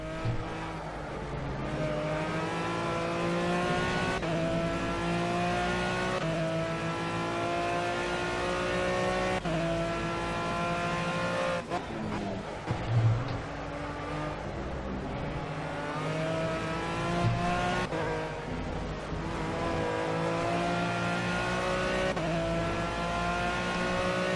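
GT3 race car engines in the Project CARS racing game, with a Bentley among the field, drone steadily with a layered harmonic whine that rises and falls through gear changes across the whole stretch, loud and continuous without talk.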